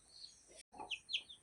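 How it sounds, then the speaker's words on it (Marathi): A hen with nine newly hatched chicks in a winnowing basket makes faint, soft clucks, mixed with thin, high chick peeps, briefly broken by a moment of quiet. "आज आहे ना आमच्या घरी कोंबडी उतरले आणि पिल्ला तिने जन्माला घातलेत"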